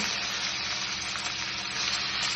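Curry leaves crackle and hiss in hot oil in a pan while upma is being cooked, a steady, close, even sizzle that runs alone throughout.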